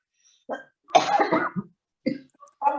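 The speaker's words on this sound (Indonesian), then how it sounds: "Ini saya batuk terus, mohon maaf." Several harsh coughs in separate bursts, close and fairly loud, with a short pause between fits.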